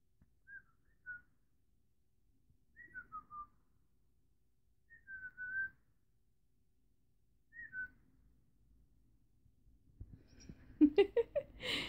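A person whistles four short, soft phrases separated by pauses in a quiet room, followed by a burst of louder noise.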